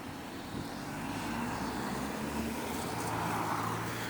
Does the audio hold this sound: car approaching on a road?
yes